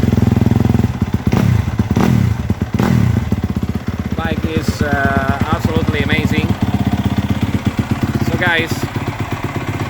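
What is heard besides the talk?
Yamaha YZF 250 2021 motorcycle engine revving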